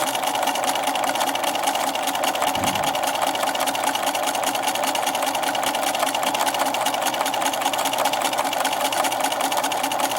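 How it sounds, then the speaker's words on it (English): A sewing machine hums and stitches steadily and close up along a bookmark seam, a continuous rapid rattling drone with one brief low thump partway through. "I'm going to sew forward a little bit, back a little bit"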